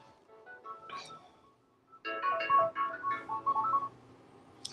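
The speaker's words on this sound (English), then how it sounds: "and my phone's going off" A mobile phone goes off indoors with a melodic electronic ringtone: a soft, faint phrase first, then a louder run of bright, stepped tones lasting about two seconds.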